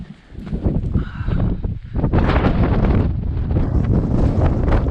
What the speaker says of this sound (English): now I'm going to be back in the wind in a second